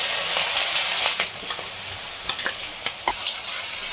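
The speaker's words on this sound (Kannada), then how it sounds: "ಇವಾಗ ಚೆನ್ನಾಗಿ ಫ್ರೈ ಮಾಡ್ಕೊಳ್ಳಿ." Ground green chili paste fries in a pan for tamarind rice, a dense close hiss of sizzling oil broken by light spatula scrapes and taps, with no one talking.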